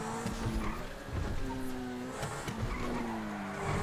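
Zentorno supercar in GTA accelerating hard, engine tone rising in repeated gear sweeps while tires squeal and skid continuously, loud and close throughout.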